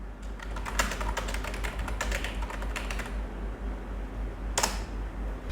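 Quick bursts of keystrokes on a computer keyboard, close and steady, with a pause and a final short burst, all over a constant low fan hum.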